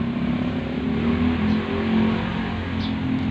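An electric fan motor with a 47 mm rotor core, spinning at 1760 RPM, gives a loud, steady hum that runs unbroken with no voices.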